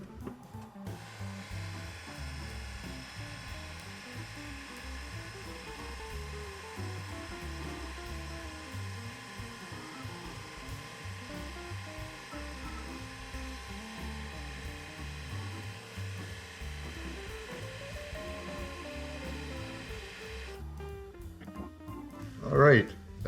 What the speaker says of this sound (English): now I'm going to turn this at 1000 RPM and let's just see what this beading tool is going to do.